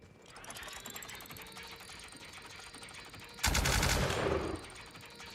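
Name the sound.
gunshots fired as warning shots in the video game The Outer Worlds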